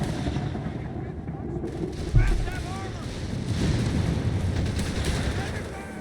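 Riflemen trade gunfire in a Company of Heroes 3 match, with dense, continuous battle noise and crackling shots throughout, a sharper report partway in, and a rumbling low-end bed under a commentator's voice.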